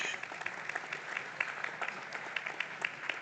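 A live audience at a panel talk on science and belief applauds, a dense steady patter of many hands clapping continuously at moderate volume throughout, with no voices over it.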